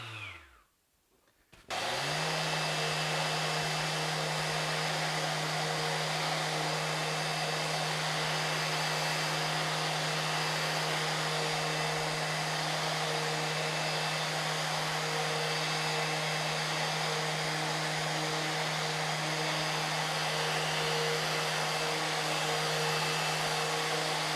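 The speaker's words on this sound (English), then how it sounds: "It is a paddle sander. As you can tell, it is very quiet." A MaxXT 6-inch random orbital sander with a 2.5mm orbit and variable speed starts after a short silence, then runs as a steady, fairly quiet motor whine that holds an even pitch for the rest of the clip.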